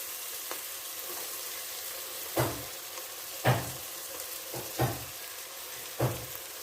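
Crushed ginger drops into chicken curry masala frying in a pan for a homestyle dish, and a steady soft sizzle runs throughout with several louder stirring scrapes and clatters spaced a second or so apart.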